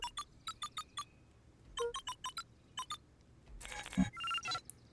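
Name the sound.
keypad entry beeps in the video game Beacon Pines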